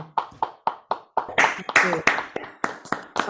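Hands clap in a steady, rhythmic burst at a storytelling swap on an online call, starting sparse and building into a denser patter as more people unmute and join, with voices mixed in.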